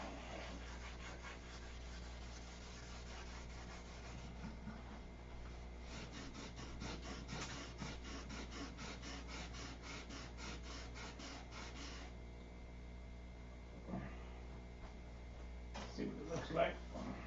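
Wood is sanded by hand toward a smooth finish, producing soft, rhythmic back-and-forth rubbing strokes that grow steady and rapid in the middle, then give way to a few scattered scrapes and taps.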